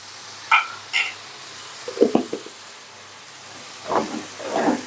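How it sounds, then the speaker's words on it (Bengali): Spice paste frying in oil for a spicy pulao, a soft continuous sizzle broken by several separate scraping and clattering stirs of a spoon against the pan, close by, with no speech. "এখন আমি সব মশলাগুলো ভালোভাবে কষিয়ে নেব"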